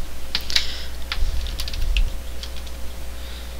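Keys tapped on a computer keyboard in short uneven bursts while text is entered into a Photoshop CS5 document, close and fairly crisp over a constant low electrical hum.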